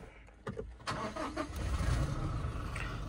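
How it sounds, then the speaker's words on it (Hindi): A Toyota Innova Crysta with a 2.4-litre diesel engine cranks and fires up, a few sharp starter clicks giving way to a steady, fairly close diesel idle that fills the rest of the moment. "मैं आपको गाड़ी स्टार्ट करके बताता हूँ।"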